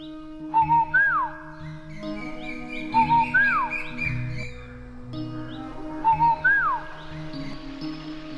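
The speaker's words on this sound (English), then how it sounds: "there lived in China a little nightingale who sang beautifully" Nightingale song in an animated story: three repeated phrases of bright, rising-and-falling whistled notes, each about a second long, clear and close over soft background music.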